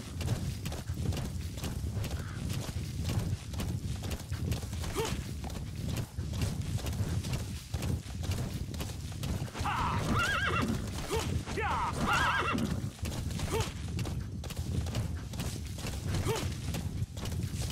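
A horse in Metal Gear Solid V whinnies while its hooves clip-clop at a steady pace, the neighs rising clearly around the middle over a low, constant background rumble.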